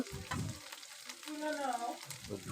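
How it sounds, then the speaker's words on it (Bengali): Onion, ginger and garlic frying in oil in a pan, a soft crackling sizzle with bursts of stirring, fairly faint and close, with a few short sounds of a voice. "তেল দিয়ে দিলাম, পেঁয়াজ দিয়ে দিলাম, কিছুটা আদা রসুন দিয়ে দিলাম"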